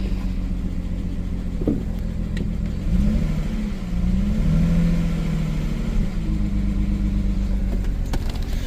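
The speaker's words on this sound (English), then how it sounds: "Let me give it a little rev here. Yeah, it's definitely running on 5." A 2007 BMW 335xi engine misfiring and running on five cylinders is revved from a rough, uneven idle. The engine note rises and swells twice before settling back. It is close and loud, with no talking.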